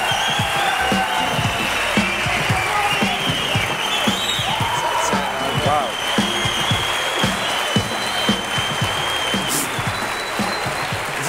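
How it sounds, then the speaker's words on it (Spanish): A Spanish TV studio audience on a political comedy show breaks into loud, sustained applause for a guest, dense clapping and crowd noise holding steady throughout with a few voices mixed in. "Reciban con un fuerte aplauso a Miguel Maldonado."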